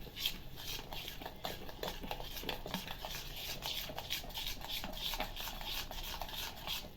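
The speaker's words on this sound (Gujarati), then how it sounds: "પાણી એડ કરીશું. આ રીતે હલાવતા જઈશું." Jaggery being stirred into water for rice-flour malpua batter, a quiet repeated scraping and rubbing of a spoon against a vessel in a steady back-and-forth rhythm.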